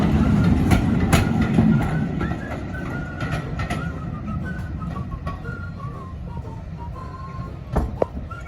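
A British Rail Class 33 diesel locomotive rumbles past with a low engine drone and rhythmic clickety-clack of wheels, a faint squeal near the end.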